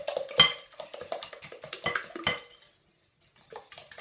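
A whisk or utensil clinks and scrapes rapidly against a bowl as ingredients are beaten together for a kids' tater tot bake, a busy close rattle of metal and dish that stops abruptly, then a few soft taps.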